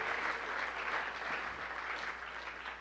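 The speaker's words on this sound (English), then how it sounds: "Let's give her a round of applause for Brooke and Alex." A VR summit audience claps together in steady, sustained applause, a dense even patter that fades slightly toward the end.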